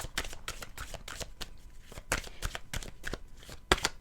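Tarot cards shuffled by hand in a run of crisp, riffling bursts with short pauses between, ending in a sharp snap as a card is drawn, close and moderately loud with no talking.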